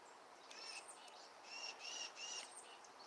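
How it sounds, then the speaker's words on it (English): Several birds call outdoors in quick repeated bursts, thin whistled chirps at moderate distance over a steady background hiss, with no talking. "I hear a lot of angry birds behind me."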